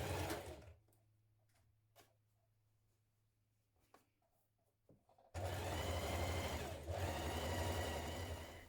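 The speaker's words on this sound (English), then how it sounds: "trim it and then edge finish it with a zigzag stitch" A sewing machine runs a zigzag stitch along a trimmed fabric edge of a wrap dress, starting loud and steady after a quiet stretch of faint handling clicks and continuing to the end.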